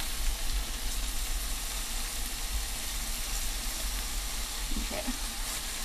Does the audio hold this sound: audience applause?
no